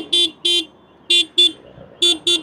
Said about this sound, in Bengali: আমার হর্নটা হঠাৎ করে এমন শোনাচ্ছে